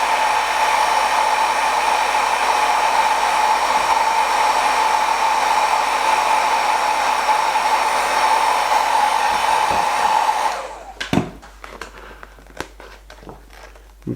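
A heat gun blows steadily and loudly on vinyl wrap for motorcycle panels, a constant whooshing hum for about ten seconds, then cuts off, followed by a few crinkling handling sounds.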